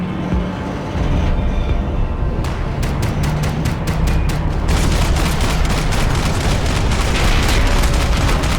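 A shootout in the video game Max Payne 3, with dense bursts of automatic gunfire and booming shots rattling continuously over a steady rumble of battle for several seconds.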